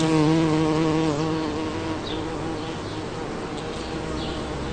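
A steady, buzzing insect-like hum with fluttering tones, fairly close and continuous throughout, easing slightly in loudness after the first second.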